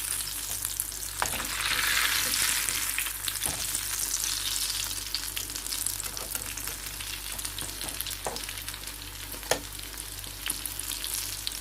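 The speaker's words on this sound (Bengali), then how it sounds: "এদিকে পেঁয়াজ ভেজে নিচ্ছি। আমার এক পিঠ ভাজা হয়ে গেছে, অন্য পিঠ উল্টে দিচ্ছি।" Sliced onions sizzle steadily in hot oil in a pan, with a few soft clicks and scrapes as they are flipped over, close and continuous without talk.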